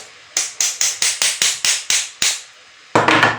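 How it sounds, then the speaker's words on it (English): Hammer blows drive a long pin into a toy assembly, about ten sharp, evenly spaced strikes close up, followed after a short pause by a heavier, denser knock or rattle. "hammer this in."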